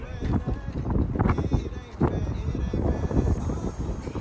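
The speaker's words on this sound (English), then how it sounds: "it's really, really windy" Gusty wind at a gorge buffets the microphone in low rumbling bursts while people talk over it.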